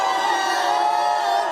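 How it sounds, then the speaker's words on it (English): A crowd of protesting nurses cheering and whooping at a rally, a dense steady roar of many voices held at a constant loud level. "There might be a party atmosphere in the crowd here today"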